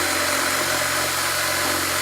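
A Craftsman drill with a 1/2-inch bit boring a couple of holes, giving a steady, close, continuous whirring buzz for the whole brief moment, with no talking.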